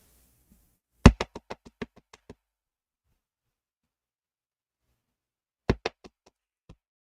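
Knocking on a neighbour's door: a loud burst of about nine quick raps that fade off, then a pause of several seconds and a second, shorter set of four or five knocks, with nothing else audible.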